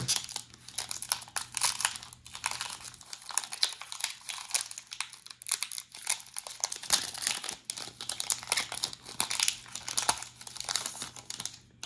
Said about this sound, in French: Maintenant, je vais ouvrir le deck avec Salarsen.